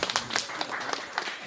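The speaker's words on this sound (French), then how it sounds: "on applaudit aussi." Audience applause at an evening religious teaching session, a short burst of scattered, fairly faint clapping that sounds thin and spread out rather than a full ovation.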